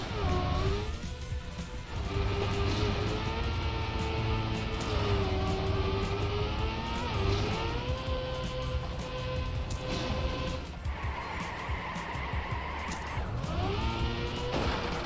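Engine drone and tire skids from cars racing in the video game Trackmania 2, with a wavering motor pitch, loud and continuous, broken by scraping crash-like bursts.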